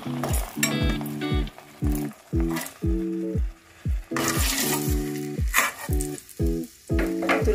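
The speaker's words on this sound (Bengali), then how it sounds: "এবার এই তেলের মধ্যে কটা বড়ি ভেজে নেব" Lentil dumplings (bori) fry in hot oil in a Bengali kitchen, a steady close sizzle running beneath a rhythmic tonal sound, likely background music, with no speech.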